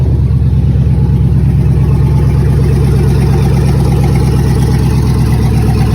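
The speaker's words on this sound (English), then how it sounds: "that's the one you can hear once again with another exhaust or catalytic converter issue" A loud, steady van engine rumbles close up with a throaty, rattling exhaust note from an exhaust or catalytic converter fault, pulsing continuously at a school vehicle auction lot, no other sounds over it.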